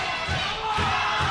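Crowd at a wrestling event during an eight-man tag team match, cheering and roaring steadily, with a few dull thumps under the noise.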